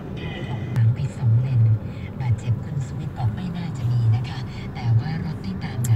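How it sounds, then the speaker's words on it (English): Road traffic runs through Chinatown in Bangkok, with a continuous low rumble of engines and passing vehicles while people talk close by throughout. "Traffic in Chinatown, Bangkok."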